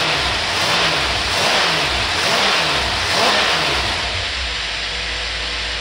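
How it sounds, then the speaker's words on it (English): Ford car engine fitted with an Autolite carburetor revving up several times in close succession, loud and near, each rise and fall of the engine note clearly audible, with no talking. "Rev it up a couple times."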